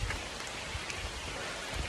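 Rain falls steadily during a mountain hike, a soft, dense hiss of drops pattering on nearby surfaces, with no one speaking.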